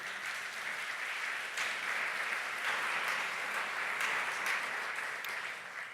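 An audience applauds award winners at a housing and territories trophy ceremony, a dense, steady wash of clapping from many hands that swells slightly midway and holds at a fairly even level for the whole stretch.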